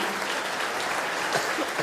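Loud, steady applause from an audience at a school event launching a hot-milk distribution programme for students, a dense wash of clapping that holds evenly throughout with no voices on top.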